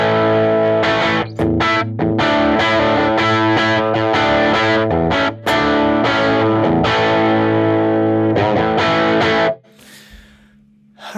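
Distorted electric guitar on the bridge pickup through a Line 6 Helix amp model, chugging riffs and chords played loud with brief gaps, ending on a quieter sustained note.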